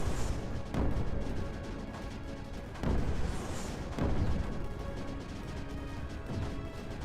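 AC bombs go off in Creeper World 4 as a steady rumbling barrage, with several heavier thuds standing out at irregular intervals over a dense, continuous low roar at moderate level, and no voices.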